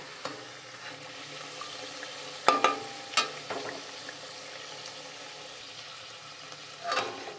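Luchi, puffed fried bread, frying in hot oil: a faint, steady sizzle broken by a few sharper crackling bursts, with no voices.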